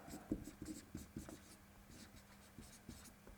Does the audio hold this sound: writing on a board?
yes